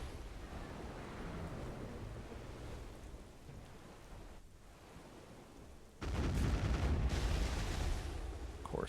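A ship's cannon fires in the online game Black Desert Online, one sudden heavy boom followed by rumbling over a steady ocean and wind ambience.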